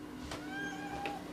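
A house cat meows a few times, short and fairly close, each call standing alone over a quiet room with no one talking.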